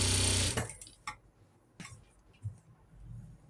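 A sewing machine stitching piping onto an Angrakha kurti, a short loud whir at the start, then scattered faint clicks and soft handling noises, with no voices.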